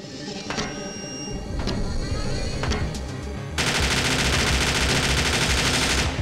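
Rapid weapon fire in Parasite Eve 2 on PS1: a few sharp separated shots, then a sustained, loud, dense burst of automatic gunfire that runs without pause to the end.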